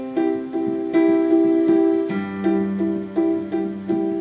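A piano plays a steady melody in six-eight time, with clear repeated note attacks grouped in lilting threes, close and alone with no talking.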